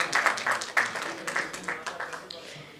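An audience at a jewellery industry conference session claps briefly, the applause loud at first then tapering into scattered claps, with voices mixed in underneath.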